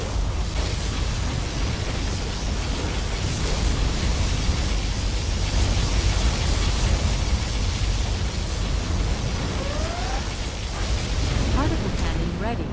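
Particle cannon firing in Command & Conquer Generals Zero Hour, a sustained roaring beam blast with a heavy rumbling low end that fills the whole stretch at constant loudness, with spoken unit voices mixed in.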